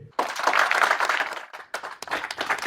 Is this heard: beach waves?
no